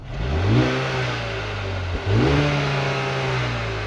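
A 2021 Mercedes-AMG GLA35 SUV engine, heard from outside, revs up sharply from idle, drops briefly, then climbs again in a second strong rev, close by with a deep, growling exhaust.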